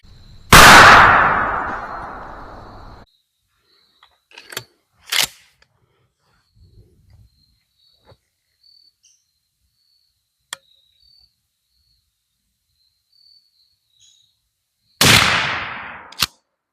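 Two loud 12 gauge shotgun blasts firing Remington #00 buckshot from 2.75-inch shells, one at the start and one near the end, each with a long decaying boom, separated by quiet stretches holding faint clicks and handling sounds.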